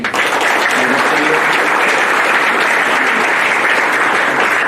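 A crowd at a Surat Govinda festival committee event gives continuous, loud applause, dense and steady from start to end, with a faint murmur of voices underneath.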